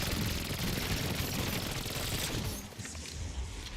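Sustained heavy gunfire into a zombie horde in Black Ops 7 zombies mode, a dense, loud and continuous rattle of shots that thins slightly near the end.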